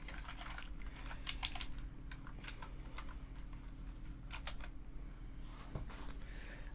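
Quick bursts of keystrokes on a computer keyboard as CSS code is entered, soft, close clicks in short clusters separated by brief pauses, with a steady low hum beneath.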